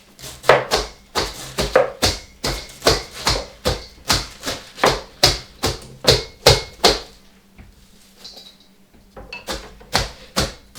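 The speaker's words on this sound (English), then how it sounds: "We want to get it chopped up, but not too fine." Rapid, rhythmic knife chops strike a board in a steady series as cabbage is cut for sauerkraut, pausing briefly before resuming with a few more cuts.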